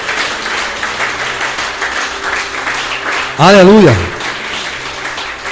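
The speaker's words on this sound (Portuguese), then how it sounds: "Aplauda o Senhor." A church congregation applauding, a continuous wash of clapping throughout while a voice briefly calls out over it.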